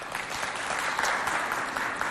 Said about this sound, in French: Applaudissez pour Amoul.